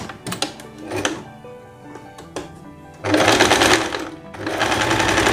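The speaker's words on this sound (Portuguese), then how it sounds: "Costurando essa parte do ombro." Domestic sewing machine stitching the shoulder seam of a dress: a short run and a few brief bursts early on, then two longer, steady, loud runs of rapid needle clatter up close.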